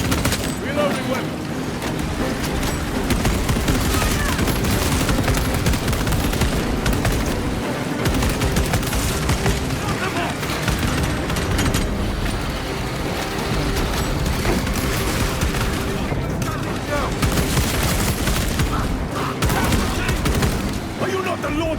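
Dense video-game gunfire from Warhammer 40K: Space Marine 2, a continuous loud barrage of automatic fire and explosions with shouted voice lines mixed into the battle.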